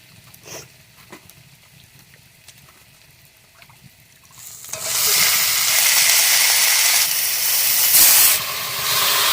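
Water splashes into a hot pan holding washed chicken in a village kitchen: quiet background until a sudden loud burst of steam and hissing sizzle that roars steadily for several seconds.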